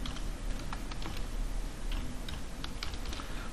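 Rapid keystrokes rattle on a computer keyboard while an AT command is typed for an ESP8266 Wi-Fi module, a close, continuous run of clicks with no speech.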